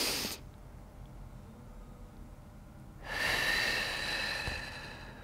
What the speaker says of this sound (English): Inhale as we lift. Exhale, gently drop it back down.